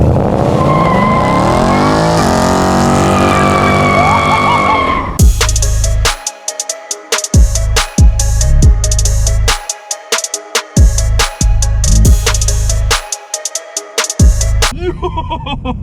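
Car revving hard and sliding in place during a burnout, engine roaring loudly close by with tire squeal and repeated throttle bursts cutting in and out; a voice sings or talks over the opening seconds.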